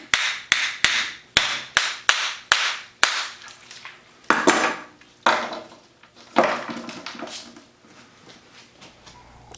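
A vintage glass resin mold shatters in a shop, producing a rapid series of sharp cracks and snaps, then scattered clinks and rattles of breaking pieces that thin out, close by with no talk.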